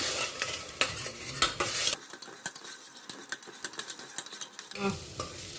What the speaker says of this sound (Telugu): ఈ ఆనియన్స్, ఇంక ఈ అల్లం వెల్లుల్లి పేస్ట్ ఇవన్నీ కూడా పచ్చివాసన పోయే వరకు మనం దీన్ని బాగా వేయించాల్సి ఉంటుంది